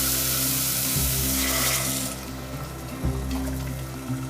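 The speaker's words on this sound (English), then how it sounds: "Add the water" Water pours steadily into a hot pan of gravy paste in oil, hissing and sizzling loudly at first, then easing into a quieter bubbling simmer.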